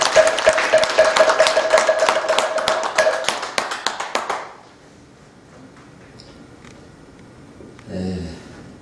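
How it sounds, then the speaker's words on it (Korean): An audience at a Buddhist college graduation ceremony bursts into loud, close applause that lasts about four seconds and then cuts off sharply, leaving a quiet room with a brief rustle near the end. "자, 큰 박수 부탁드리겠습니다."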